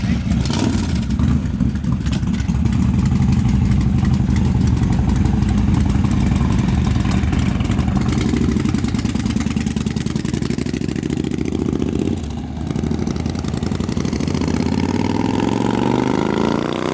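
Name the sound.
Harley Low Rider S and Kawasaki Bobber motorcycle engines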